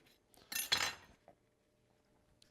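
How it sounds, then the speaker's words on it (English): A knife cuts open cream puffs with a short clatter and scrape of metal on a plate or board, then a few faint taps in otherwise quiet surroundings. "I'm going to go through and cut all of the cream puffs open"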